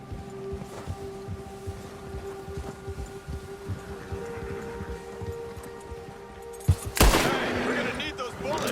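Gunfire in Red Dead Redemption 2, scattered shots under a steady hum of game ambience and horse hooves, ending in a sudden loud burst and sustained rushing noise near the close.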